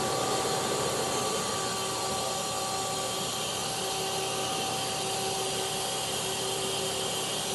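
Mazak Quick Turn Nexus 100-II M CNC lathe from 2008, with a 6-inch chuck and its spindle running at 2,700 RPM, gives a steady, even mechanical whir with faint tonal hums and no talk.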